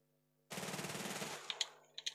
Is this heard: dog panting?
no